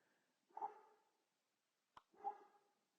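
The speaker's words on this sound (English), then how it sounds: "my dog is barking in the background" A dog barks twice, muffled and distant, with a short pause between the barks and quiet in between.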